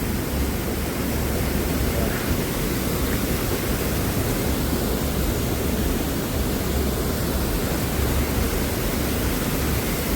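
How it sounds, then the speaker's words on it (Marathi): Water rushing at the Nivali Bavnadi dam, a steady broadband roar that stays loud and unbroken throughout with no voices over it. "पाण्याचा आवाज होता"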